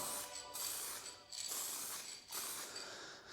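An aerosol can sprays in three long hissing bursts, with short pauses and faint mechanical clicks between them, close by.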